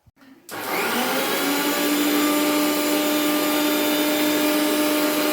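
A mixer grinder grinds chutney with salt and store-bought chilli powder, starting after a brief knock and then running as a loud, steady whine for the rest of the clip, with no talking over it.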